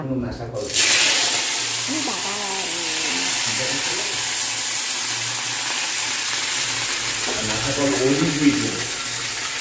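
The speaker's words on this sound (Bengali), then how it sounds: "এখন হচ্ছে নিম পাতা ভাজা" Neem leaves fry in a pan with a steady, fairly loud hissing sizzle that runs throughout, while a person talks over it at moments.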